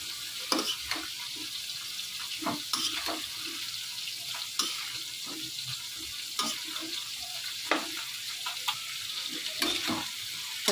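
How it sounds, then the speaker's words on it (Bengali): Washed vegetables (potato and pointed gourd) sizzling in a spice masala in a pan, a steady frying hiss broken by scraping stirs and clinks, close and moderately loud with no voice. "তো সবজিটাকে এখন আমি একটু কষিয়ে নিব।"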